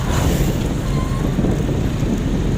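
Light rain and steady road noise surround a vehicle travelling home from church in the Rockies along a bumpy road, forming a continuous broadband wash with no voices.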